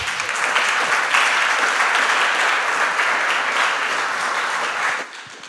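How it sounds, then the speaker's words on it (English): Conference audience applauds after a tech talk, a dense, even burst of clapping from a mid-sized room that cuts off sharply near the end. "Big applause."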